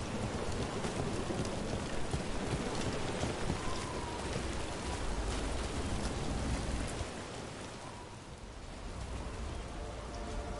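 Steady rain pours in the video game Dragon Age Veilguard, a dense continuous hiss of falling water with a low rumble underneath, fading slightly toward the end, with no talking.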